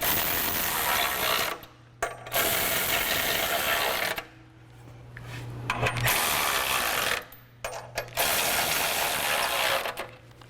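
A ratchet tightening the bolts on auxiliary brackets of a Go Rhino front bumper on a Jeep Wrangler JK: close, rapid clicking bursts broken by short pauses, repeated four times, with no talk.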